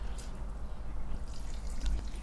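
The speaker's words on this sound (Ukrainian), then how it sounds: "Ось я висадила вже всі рослини і набираю воду з акваріума," Water scooped from an aquarium, heard as faint splashing and dripping close by over a steady low hum, brief and quiet with no talking.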